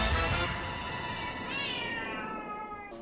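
Stray street cats in a city yowl and caterwaul in a long, drawn-out wavering cry, loud and close, rising and falling with no voices around.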